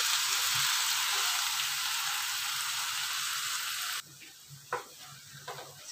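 Soy sauce hits a hot frying pan and sizzles loudly and steadily for about four seconds, then drops off sharply to a faint crackle with a few light stirring clatters. The pan is for a stir-fried adobong talong of eggplant.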